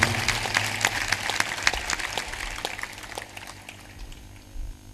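Applause from an audience at a religious discourse in Amarpur, Punjab: a dense, steady patter of many hands clapping, fairly loud and continuous, thinning slightly toward the end.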